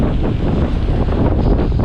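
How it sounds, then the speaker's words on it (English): Strong wind on Stradbroke Island buffets the microphone in a steady, loud roar with no voices. "bloody windy as all heck over here"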